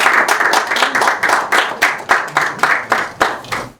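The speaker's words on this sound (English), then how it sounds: "Please join me in giving a round of applause to welcome" A small audience at a digital health panel discussion gives a short round of applause to welcome a speaker; clapping comes in uneven rhythmic bursts, close and fairly loud, tapering into a few scattered claps at the end.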